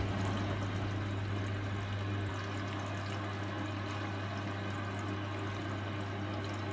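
A Hotpoint washing machine partway through a mixed wash cycle gives off a steady, close watery churn and slosh with a constant low mechanical hum underneath, unbroken and without talking.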